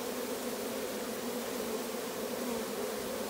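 Honeybees fly in the air around a hive, a dense, steady buzzing drone from many bees at once, continuous and even throughout without any voices.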